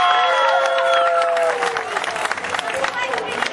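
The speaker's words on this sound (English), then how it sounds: "We'll give David a nice big round of applause for getting the gator's mouth up free." An audience at a live alligator show applauds, steady clapping and crowd noise under loud voices.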